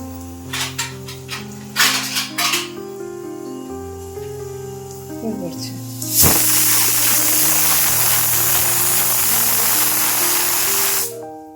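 A pressure cooker whistle blasts loud and steady for about five seconds of hissing steam, following a stretch of kitchen sounds with clattering and music-like tones, while cauliflower-stalk curry is being cooked.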